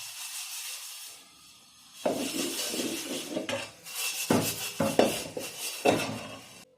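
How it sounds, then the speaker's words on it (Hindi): Dishes, pots and pans being washed by hand, with repeated close clattering and clinking of metal utensils in irregular bursts over running water, quiet at first and then busy, no talking. "बर्तन धो लेते हैं"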